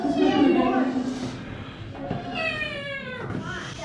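A person imitates a cat with a few drawn-out, wavering meows, close and fairly loud inside Howe Caverns, New York, with a faint rumbling background.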